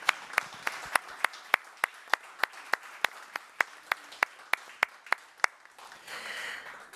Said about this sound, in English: allow me to simulate a round of applause to my team